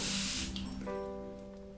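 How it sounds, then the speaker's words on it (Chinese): Makeup setting spray released as a very fine mist, one short close hiss that fades within half a second, followed by a faint tonal hum. "像就是它喷出来的喷雾真的非常非常的细"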